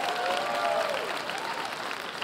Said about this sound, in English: give a round of applause for this lady.